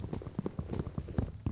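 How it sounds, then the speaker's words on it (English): Wood being chopped by hand in Minecraft, a quick series of soft, muffled knocking thuds in an irregular trotting rhythm, close and moderately quiet with no talking. "Like that weird wood sound."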